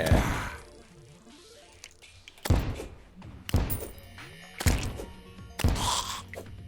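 Grenades bounce and explode on enemies in the game Terraria, sounding as a series of four or five dull thumping blasts spaced about a second apart, with light game effects between them.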